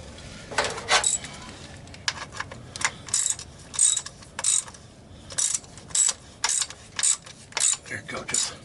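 Ratchet wrench tightening the transfer case drain plug on a Jeep Wrangler JK, a series of short clicking bursts coming in regular strokes, close and fairly crisp, growing more even toward the end.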